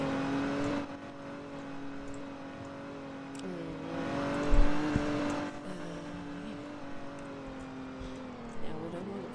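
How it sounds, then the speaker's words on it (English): A Lamborghini engine in a Roblox driving game drones steadily with a sustained tonal hum, swelling briefly as it revs, while a person talks over it. "Look, a Lamborghini."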